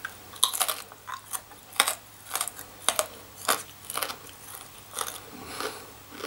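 Crispy blistered roast pork crackling being cut into strips, giving a series of sharp, loud crunches and cracks at an irregular rhythm, close by, with no talking.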